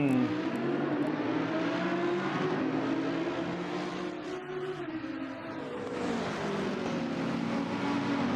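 A race car engine in Assetto Corsa Competizione drones steadily at high revs, dipping briefly midway and then climbing again, loud and continuous with no voices.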